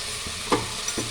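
Vegetables for a pulao stirred in a hot pan: a soft sizzle of frying runs throughout, with a few scraping strokes of the spoon close by.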